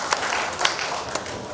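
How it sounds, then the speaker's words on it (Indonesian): Audience applause at a Malang city community forum with the acting mayor, a short wash of clapping with a few sharper claps standing out, steady and moderately loud throughout. "Tepuk tangan untuk beliaunya ini."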